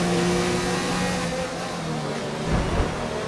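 A Ferrari and a McLaren Formula 1 car from the F1 2019 game roar together at race pace, a steady high engine drone with a brief louder surge near the end, no talking.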